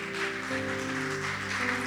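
A church congregation applauds in a broad, even wash of clapping, while sustained organ or keyboard chords hold underneath throughout.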